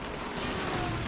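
Rapid automatic machine gun fire from a video game, a loud, dense, unbroken burst over about a second, close and harsh.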